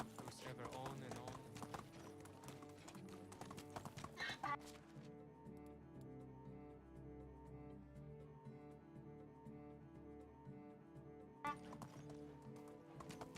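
Horses walk with a steady clip-clop of hooves in the medieval farming game Medieval Dynasty, a busy hoof rhythm at first that gives way to sustained tonal game sound, with a voice talking over it.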